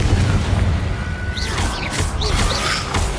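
Confringo, a fiery blast spell in Hogwarts Legacy, goes off as a dull, booming burst with crackling, whooshing magical sparkles layered over a steady low rumble of combat ambience.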